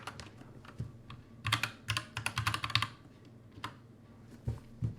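Close typing on a computer keyboard: scattered single key taps, then a quick burst of rapid keystrokes, then a few more isolated presses, quiet and without talk.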